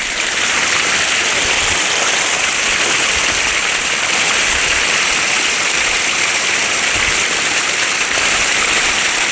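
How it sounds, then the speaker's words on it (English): A backyard pool waterfall water feature with a water slide pours continuously, a loud, dense, unbroken rushing splash that stays steady from start to finish with no voices. "this is probably one of my favorite waterfalls, water features that I've ever done"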